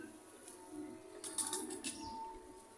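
Sialkoti pigeons taking off, a brief flurry of flapping wings in the middle of a quiet scene, faint and fairly close, with soft background hum.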